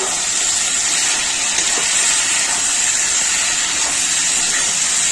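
Ground coriander and cumin are stirred into a hot pan for a teasel-gourd prawn curry, giving a loud, steady, unbroken sizzling hiss throughout with no voices.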